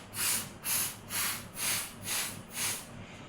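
A voice imitates a leaking tire with six evenly spaced, sustained hissing breaths, each about half a second long, close and alone with no other sound.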